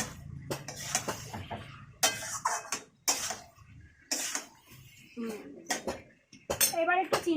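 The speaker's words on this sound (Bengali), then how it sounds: "এবার একটু নাড়া দিয়ে দেখি।" Spoon stirring ground coriander and turmeric into a cooking pot while prawns and pumpkin are being prepared, giving repeated metallic scrapes and clinks against the pot, close by, interspersed with a person talking.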